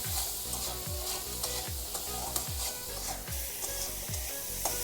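Potatoes fry in a pan for a Bengali jute leaf prawn curry, a steady sizzle broken by regular scraping strokes of a spatula stirring them, close and moderately loud with no talking.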